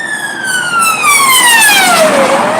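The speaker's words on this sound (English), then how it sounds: "can hear police coming around here" A police car siren sweeps past on a town street in Bury St Edmunds, loud and near, its pitch sliding steadily downward as it goes by, with no voices.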